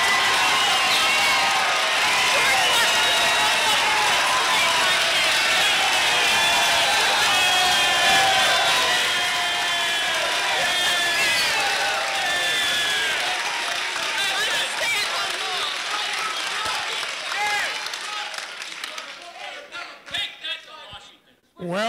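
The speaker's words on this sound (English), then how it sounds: "there are a few people who didn't stand up and applaud, but not too many" A town hall audience rising to its feet and applauding, producing a dense, loud roar of clapping mixed with cheers and shouts that holds for most of the time, then breaks up and fades near the end.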